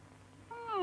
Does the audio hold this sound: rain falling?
no